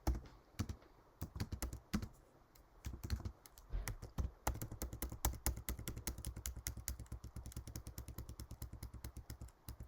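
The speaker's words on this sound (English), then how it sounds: "So I've typed out far more 3's after the decimal than what we had originally." Fast typing on a computer keyboard, close up, with a few scattered keystrokes first and then a long, steady run of rapid clicky taps, no voices.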